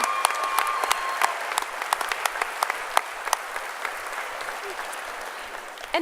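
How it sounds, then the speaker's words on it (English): Steady audience applause at a college commencement ceremony, a broad crowd of clapping with scattered sharper individual claps, holding at an even level throughout. "So I applaud each of you."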